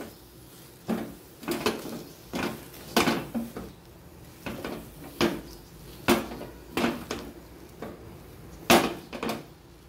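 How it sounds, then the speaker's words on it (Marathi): Cooked dal puran being stirred in a pan, a steady series of rhythmic thuds and scrapes from the spatla, about one every second, close and moderately loud. "पुरण पण अशा प्रकारे परतणं चालू आहे."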